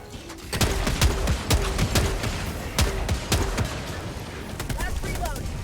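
Sharp, repeated gunshots from a video game firefight ring out at an uneven pace, with a heavy weapon firing at random, close and loud over a rumbling background, and scattered voice under the shots.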